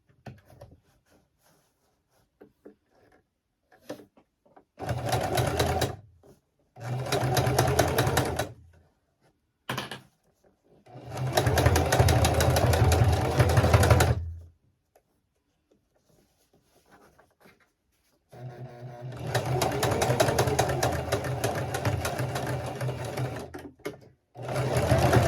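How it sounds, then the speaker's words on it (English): A sewing machine stitches through thick layers of fabric in several long bursts of rapid mechanical thumping, close and loud, separated by short pauses and near-silent gaps. "I love when the machine goes thump, thump, thump, thump, like as it goes through all those layers"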